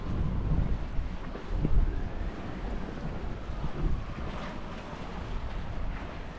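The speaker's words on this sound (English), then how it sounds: "Can you blame them with this gust blowing them all the time?" Strong wind gusting across the shore at Manoel Island, Malta, a constant low rumbling roar buffeting the microphone, with faint waves in the background and no talking.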